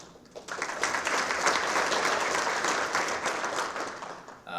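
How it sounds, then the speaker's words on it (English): Audience applause for hall of honor inductees at a school athletics ceremony, a steady dense clapping from a crowd that swells quickly, holds for several seconds and fades out. "a round of applause to the 2 of them so far"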